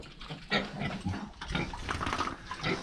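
Pigs on a farm grunt and oink in a busy, continuous jumble close by, with overlapping snorts and squeals from several animals and no talk.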